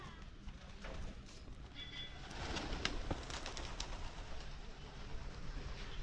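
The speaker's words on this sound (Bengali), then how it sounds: "এই হচ্ছে পায়রাগুলো উড়ে যাচ্ছে দেখো" Pigeons at a farm-house resort in Jhargram take off together, their flutter and faint cooing blending into a steady, noisy outdoor background with a few sharp transients and no clear speech.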